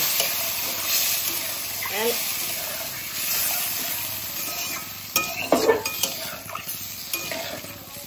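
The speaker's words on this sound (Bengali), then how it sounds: "আর এতে বেগুন ভাজার তেলে আমি বসিয়ে দিচ্ছি মাছটা।" Fish set into hot oil already used for frying aubergine crackles and sizzles in a pan, with sharp bursts of spattering midway, stirring and utensil clinks nearby, and a voice talking over the cooking.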